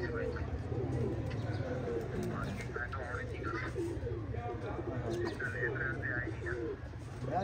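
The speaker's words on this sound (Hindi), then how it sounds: "ये चिट्टा कबूतर भी बैठ गया जी।" Pigeons at a pigeon club loft coo steadily throughout, with soft chirps mixed in, close and continuous, and voices murmuring underneath.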